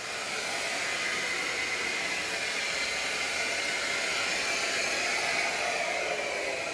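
A shaper spindle turning at a low speed setting, a steady broadband whirring hiss that holds even and continuous throughout with no breaks.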